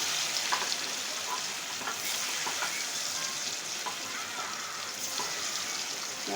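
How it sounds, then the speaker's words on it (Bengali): Paneer cubes fry in hot oil with a steady, dense sizzle and crackle that holds at an even level from start to finish, with faint occasional stirring clatter and no voices. "পনিরগুলো লাল লাল করে ভেজে নেবে।"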